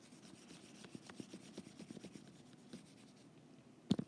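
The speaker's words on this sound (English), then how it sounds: "So I'm just going to erase this line here." A board eraser rubbed back and forth over a line, a close run of quiet scratchy strokes in an irregular rhythm, ending with one sharper tap.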